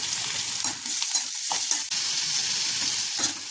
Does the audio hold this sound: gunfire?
no